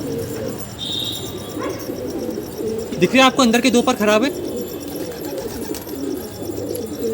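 A large, pure white pigeon with damaged inner feathers gives a short burst of cooing, close by, under someone talking steadily over a low background hum.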